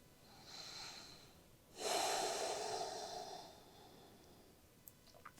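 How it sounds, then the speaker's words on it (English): Slow, deep breaths during a gentle morning yoga session: a soft inhale followed by a longer, fuller exhale through the nose, close and quiet in a still room, ending with a few faint clicks. "So just 3 deep breaths here."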